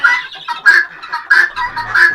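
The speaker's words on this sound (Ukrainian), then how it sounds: "А чуєш? Що? Цих цесарок." Guinea fowl on a rural farmstead give loud, harsh, clucking calls close by, repeated in about four rhythmic bursts, alone without talk.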